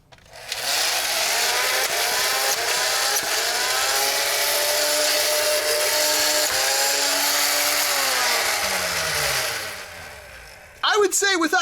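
The flywheel motors of a 2005 BuzzBee Mech Six dart blaster whir loudly and steadily for several seconds, then jam, the pitch sinking as they spin down. A short burst of noise follows at the end.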